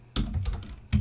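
Typing on a computer keyboard: two quick bursts of close, clicky keystrokes, a short rattle of presses followed by another key hit at the end.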